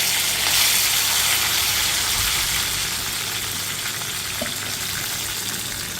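Curry leaves crackle and hiss in hot oil for a Moovandan mango pickle, a dense, even sizzle that holds for several seconds and eases slightly toward the end, close up with no speech.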